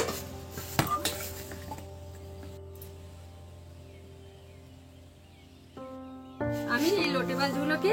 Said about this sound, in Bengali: আমি এই লোটে মাছগুলোকে কেটে নেব।